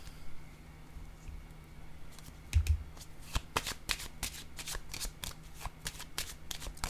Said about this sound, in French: Oups, j'ai mêlé des cartes là